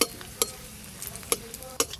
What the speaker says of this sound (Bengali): কালো জিরে আর শুকনো লঙ্কা ফোড়নে দেব।